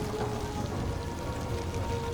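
Steady rain ambience as a background sound effect during a tabletop fantasy role-playing session, a soft continuous patter and hiss at low level, even and unbroken with no talk.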